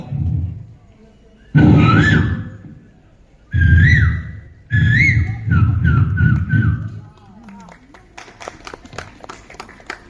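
A voice mimics a koel's rising, whooping call in several loud bursts, then breaks into quick tongue clicks.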